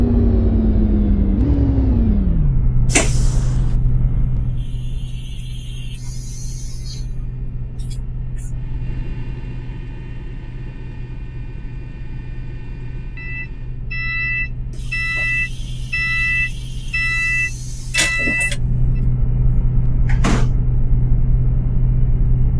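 A bus in the Roblox game drives along with a steady low engine rumble and whir that drops as it slows near the start, then idles while chiming announcement tones play before it revs up again.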